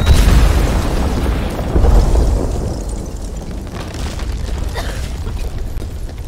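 A detonation explosion in a Black Panther DLC game, a loud low boom that opens the clip and swells again briefly, then fades into rumbling debris noise.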